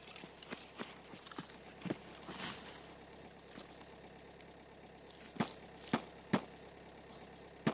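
Footsteps in a video game: sparse, faint steps at first, then several sharper, louder single steps spaced apart near the end over a quiet low hum.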